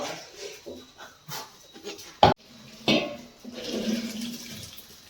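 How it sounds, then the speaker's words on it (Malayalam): Cold water is poured into a pot of cooked rice in a Kerala home kitchen, with two short, loud splashing bursts near the middle and faint clatter around them, and no voices. "കുറച്ച് പച്ചവെള്ളം ഒഴിക്കാം"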